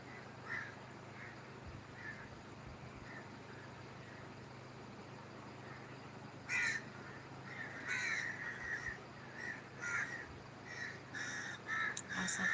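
Birds at sunrise, with crows cawing repeatedly over a steady low background hum, the caws sparse at first and then coming thicker and louder in quick bursts toward the end.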